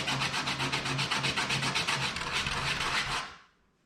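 Wood on a lighthouse model is sanded by hand with 80 grit sandpaper, quick even back-and-forth rasping strokes, close and steady, before the sound stops and fades out.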